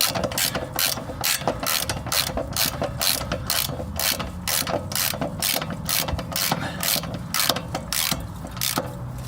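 A hand ratchet tightens the nut on the upper control arm of a 1998 Honda Civic, giving a long run of quick, loud, evenly spaced clicks up close with no talking.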